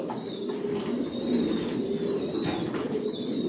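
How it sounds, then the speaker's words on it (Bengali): Racing pigeons coo steadily in a loft, a soft continuous murmur of many birds with occasional wing flutters, fairly close. "বিভিন্ন দামের কবুতর আছে আমার লফটে"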